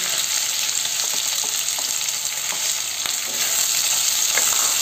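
Ivy gourd (kundru) fries in a pan with red chillies over high heat, giving a steady bright sizzle with occasional stirring scrapes, close and without talk.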